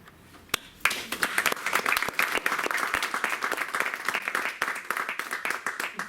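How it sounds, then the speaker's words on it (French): An audience in Fontenay-aux-Roses applauds young speakers at a municipal election event; a few scattered claps build quickly into sustained, dense applause with sharp individual hand strikes throughout. "on peut les applaudir encore une fois"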